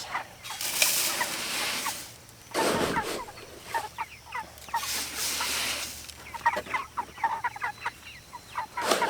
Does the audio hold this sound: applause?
no